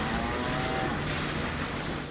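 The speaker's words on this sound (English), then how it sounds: "A cow?" A cow moos once in the Deadpool video game, a long, loud, low lowing tone over a steady rumbling background.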